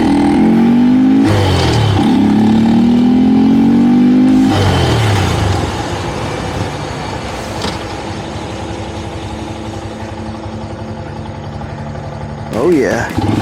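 A Honda Grom motorcycle engine with a K&N filter in its airbox cover, riding on the road, revs up and drops back in several loud rising pulls, then settles into a steadier, quieter drone before one last short blip.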